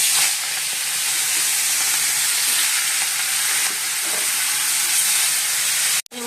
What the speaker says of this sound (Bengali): আমরা মশলাটা কষাচ্ছি